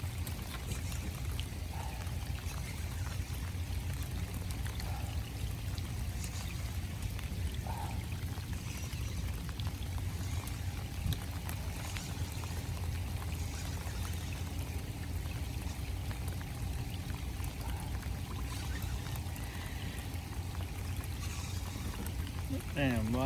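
Steady rain falling at night during catfish fishing, a continuous dense pouring hiss that stays even and loud throughout, with faint voices beneath it.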